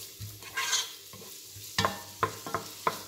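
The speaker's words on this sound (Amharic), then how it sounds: "ሽንኩርቱን በሱ እንግዲህ ትንሽ ጠበስ ጠበስ አድርገዋለሁ" Onions are sautéed in a pot, a quiet sizzle broken by several sharp scrapes and knocks of a spoon stirring.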